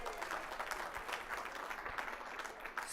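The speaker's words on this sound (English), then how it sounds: "Big round of applause once again." Guests at a provincial sport confederation gala dinner applaud steadily, a dense, even wash of clapping filling the room from start to finish.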